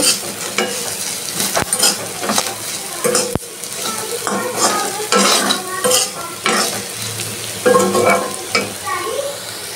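Crisp neem leaves fry in a pan while being stirred, giving a continuous close sizzle broken by metallic scraping and clinks of the spoon against the pan.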